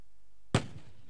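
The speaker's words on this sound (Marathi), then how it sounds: "आतिषबाजी जल्लोष फटाक्यांची तुम्हाला पाहायला मिळते" A single sharp firecracker bang bursts out at a village cricket tournament, the Shivneri Chashak 2024, after a quiet lead-in, then trails off in a short rumbling decay.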